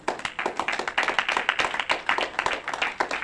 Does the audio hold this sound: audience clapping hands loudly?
yes